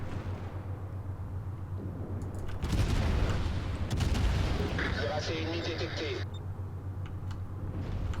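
Warship guns in World of Warships fire a heavy burst, a cluster of loud, booming shots rolling into a sustained rumble in the middle of the clip, while someone talks over the action.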